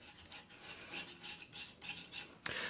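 Close, rasping scrapes come as rust is scraped off car exhaust extractors for a 4AGE engine, in short repeated strokes ending with a sharper scratch.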